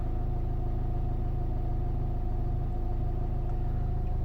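A Renault Scenic 2 with the 1.5 dCi diesel and a faulty alternator runs with a constant, fairly quiet low drone, its engine note staying even throughout.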